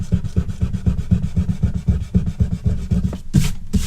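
A rubber eraser rubs out pencil construction lines on paper, making rapid, rhythmic scrubbing strokes, close and fairly loud, with a short pause and a few final rubs at the end.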